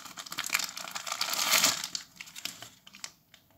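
Paper instruction leaflets and quick-start guides from a JBL Go 2 speaker box are crumpled and handled up close, a dense crackling rustle that swells midway and then thins into scattered crinkles.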